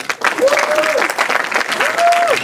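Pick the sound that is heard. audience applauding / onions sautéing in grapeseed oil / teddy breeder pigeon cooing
audience applauding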